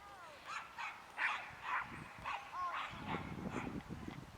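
Small dogs yip and bark in short bursts, two little dogs and one big one meeting, with whimpering yelps scattered across the moment and a faint background voice.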